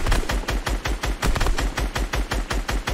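Rapid bursts of video game gunfire in an irregular rhythm, loud and close, repeating steadily throughout with no voices.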